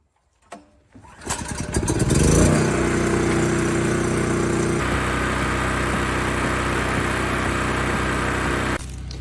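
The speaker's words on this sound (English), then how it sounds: "start the generator up and see if those connections are solid and the pump starts working" A portable generator engine cranks with a couple of pulls, catches, and settles into a steady loud running drone near the microphone for several seconds while it powers a well pump, with no voices.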